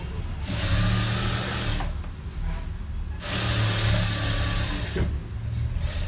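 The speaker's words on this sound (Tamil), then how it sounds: "தையல் போடுங்க. கரெக்டாக இந்த தையலை வந்து நம்ம ஃபினிஷ் பண்ணணும்." A sewing machine stitches a blouse side seam in two long bursts of steady mechanical whirring, with short pauses between runs, close by.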